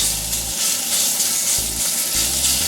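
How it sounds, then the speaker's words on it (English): Meat frying in a pan for Zürigschnätzlets, a steady loud sizzle and hiss that continues throughout. "Put the meat in there. Yes, nice and fried. Fry this meat"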